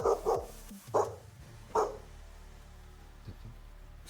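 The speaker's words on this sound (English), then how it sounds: "He's not even barking at the room. He's just barking." A dog gives a series of sharp barks, a close double bark followed by two more spaced out, then faint quieter yips near the end, with a low background hum in the room.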